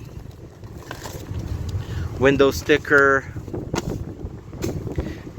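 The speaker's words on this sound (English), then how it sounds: "Sorry guys, it's very windy here." Gusty wind buffets the microphone with a low, rumbling roar throughout, while someone speaks briefly in the middle.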